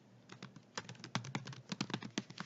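Rapid keystrokes on a computer keyboard as a folder name is typed, a quick irregular run of close, crisp clicks that grows busier after a short quiet start.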